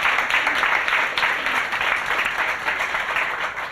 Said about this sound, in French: On peut les applaudir, ce sont nos trois